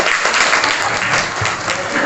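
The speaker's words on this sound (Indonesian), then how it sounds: "tepuk tangan untuk kelas 7B" Students in a classroom clap for a class presentation, a short dense burst of hand clapping lasting about two seconds at steady loudness.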